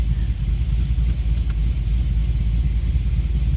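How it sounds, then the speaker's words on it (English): A Holden VF Clubsport idles steadily just after start-up, its low, even engine rumble continuous and close throughout with no talk over it. "Started the car up"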